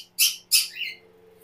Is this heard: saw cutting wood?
no